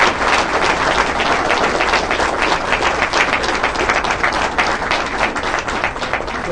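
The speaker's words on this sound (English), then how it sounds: "I think they deserve a huge round of applause." A dense, loud round of applause from an audience at a school board of education meeting, steady clapping filling the whole stretch without letup.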